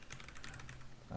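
Rapid, faint clicking of computer keyboard keys during coding in Neovim, a quick run of light taps ending in a slightly louder press.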